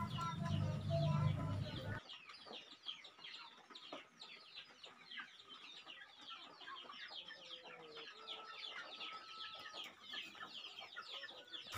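Free-range chickens, raised on palm oil by-products, cluck softly and repeatedly outdoors at moderate distance, with a burst of louder sound at the start before the clucking continues alone.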